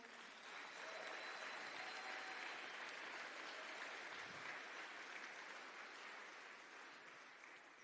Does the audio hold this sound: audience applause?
yes